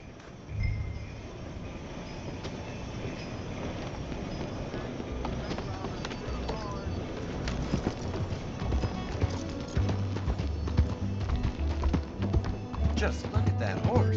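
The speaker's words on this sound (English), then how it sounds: "Just look at that horse." A horse's hooves clop steadily in the Red Dead Redemption 2 game world, a quiet, continuous rhythm beneath soft background ambience.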